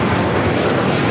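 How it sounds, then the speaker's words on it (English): A Qatar Airways Airbus A350-1000 jet arriving from Doha touches down on runway 25 left at LAX, a loud close roar of engines and rushing air over the brief moment. "big Q A350 1000 Qatar Airways coming in from Doha, touching down at 25 on the left"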